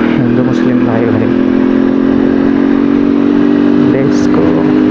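A Hero Xtreme motorcycle engine drones steadily while being ridden on a long road trip, a loud constant hum close to the rider, with a voice speaking over it.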